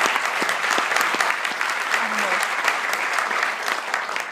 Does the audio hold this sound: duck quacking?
no